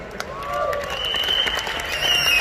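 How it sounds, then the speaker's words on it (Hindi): Audience applause, a steady dense clapping that holds at an even level for a couple of seconds, with no talk over it. "यस, तालियां जोरदार हो सकती है।"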